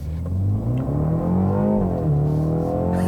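A 2020 BMW X2 M35i's four-cylinder engine revs steadily and loudly up close, its exhaust note rising and falling in pitch across the whole stretch with no talking.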